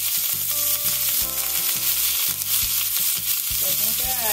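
Chilean sea bass sizzles in a hot pan, a continuous close crackle and hiss of frying, with a few clinks and knocks of cookware over the top.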